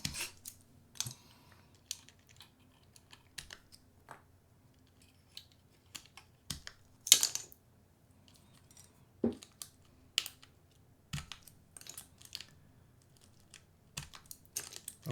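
Typing on a Pangea Mini R2 mechanical keyboard, heard as scattered sharp key clicks at an irregular pace over a faint steady hum, with no voices present.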